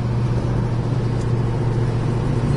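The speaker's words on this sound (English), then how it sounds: "the car runs and drives just like it should, has a real nice deep-throated tone to it" A 1969 Plymouth GTX engine drones steadily while driving with a deep, throaty hum and constant road rumble, no voices, close and continuous throughout.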